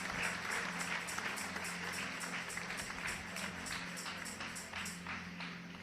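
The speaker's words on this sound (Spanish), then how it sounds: "Un aplauso fuerte al doctor." Sustained audience applause after a doctor's talk on building healthy families, a dense steady wash of many hands clapping for about six seconds with no voices above it.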